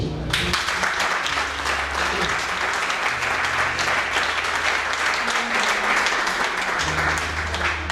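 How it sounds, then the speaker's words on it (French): A large crowd at a peace and social cohesion gathering applauds, a dense, continuous roar of clapping that holds steady and loud throughout, with some low voices and rumble underneath. "On acclame Jésus"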